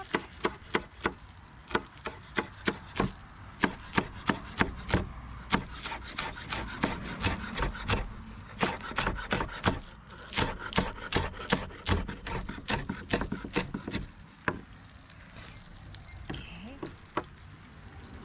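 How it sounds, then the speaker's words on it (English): A knife chops scallions with rough tips on a wooden board, giving a long run of sharp, close taps in uneven bursts that thin out toward the end, with no talk. "So I'm just going to go ahead and chop these up."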